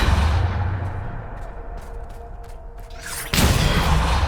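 In Hogwarts Legacy, the Depulso spell goes off with a rushing magical whoosh that tapers away, then a sudden loud burst, set over a low rumbling game background.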